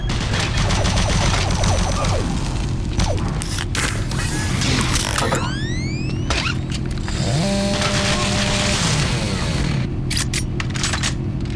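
Loud, close shotgun blasts and rattling machine gun bursts in DOOM 3 BFG Edition, firing in quick succession with mechanical clanks and whirring effects throughout.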